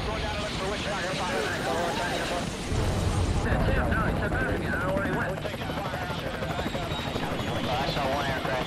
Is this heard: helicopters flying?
yes